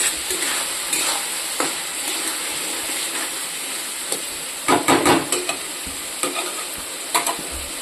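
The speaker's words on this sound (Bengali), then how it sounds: "এটার সাথেও কিছুক্ষণ ভাজবো।" Fried potatoes and a half-fried spice paste sizzle together in a pan, a constant close hiss with occasional louder bursts and spatters as the mixture is stirred.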